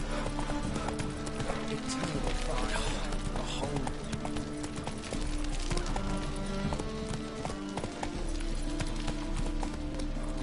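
Roach the horse galloping in The Witcher 3: Wild Hunt, a fast rhythmic clatter of hooves at a steady pace over a low continuous game background.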